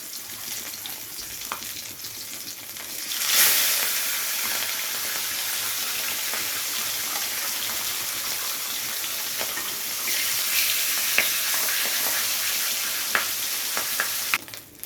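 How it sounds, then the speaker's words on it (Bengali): Steady, loud sizzling of katla fish pieces frying in hot ghee in a pan, continuous throughout with occasional small pops and clinks. "এবারে আমি এক এক করে তুলে নিচ্ছি, আর বাকি মাছগুলোও কিন্তু একইভাবে ভেজে নিতে হবে।"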